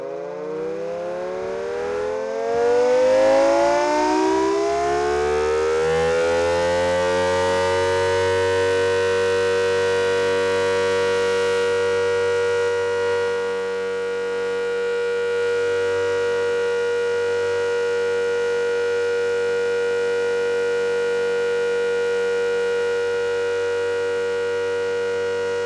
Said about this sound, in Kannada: ಒಟ್ಟು 35 ಕಡೆಗಳಲ್ಲಿ ಸೈರನ್ ಮೊಳಗಿದೆ.